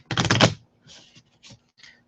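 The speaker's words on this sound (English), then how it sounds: "I'll give it a little teeny tiny rifle shuffle." A small, quick riffle shuffle of a tarot card deck gives one dense, crisp flutter lasting about half a second, followed by a few faint, soft taps as the cards settle, with no talking.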